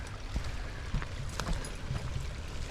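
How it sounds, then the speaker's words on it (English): Small stream of runoff water flowing from a pond in the woods, a steady close trickling and gurgling with soft splashes, with no voices. "enjoy the running water"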